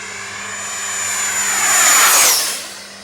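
Freewing Eurofighter Typhoon 8s 90mm EDF model jet at 50% throttle making a loud fan whine and rushing roar that swells as it passes close and then fades away, with a sharp pitch drop at the pass.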